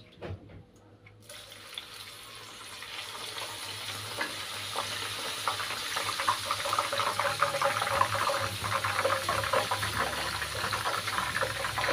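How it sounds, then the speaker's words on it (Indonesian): Steady crackling sizzle of garlic frying in hot oil, growing busier and louder, with occasional stirring scrapes. "ini saya sudah siapkan minyak panas, langsung aja kita goreng bawang putihnya"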